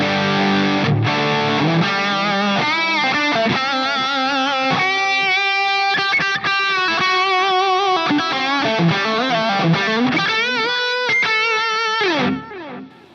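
Electric guitar through a Line 6 Helix distortion snapshot on the Cali Texas channel, a loud, continuous riff of chugging and ringing distorted chords that cuts off abruptly near the end.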